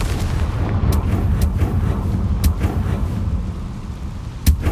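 A blasting spell cast in Hogwarts Legacy lands as a heavy, rumbling explosion, with a few sharp cracks breaking through a loud, sustained low roar.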